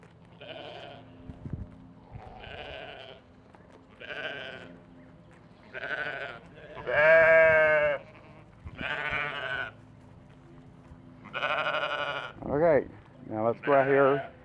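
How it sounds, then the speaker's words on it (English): Sheep and lambs bleat on a farm, a series of loud, wavering calls close by, some overlapping, with a person talking at times between them. "Come on, sheep!"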